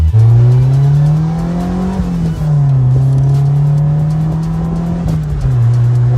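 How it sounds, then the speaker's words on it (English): A loud, deep aftermarket exhaust rumble from a 1992 Toyota MR2 holds steady and close, with brief revs and shifts in pitch, no talking. "You can hear that rumble. It's so loud. I love that exhaust you put on it."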